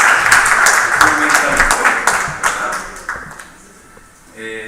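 An audience at a talk on the influence of thought breaks into applause, dense clapping that stays strong for several seconds, then thins out and fades, with a brief rise of other sound at the very end.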